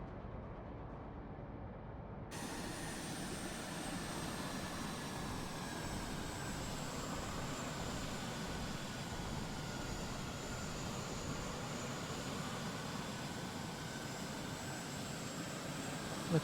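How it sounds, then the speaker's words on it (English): Airplane flying in the video game Carrier Command 2, a steady droning engine roar with a high whine held continuously, loud and unchanging, with no talk. "now you get to fly a plane"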